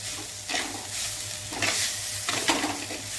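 Tempered rice (popu annam) is stirred in a pan, with repeated scraping strokes roughly every second over a continuous soft sizzle, close and fairly loud, with no talk.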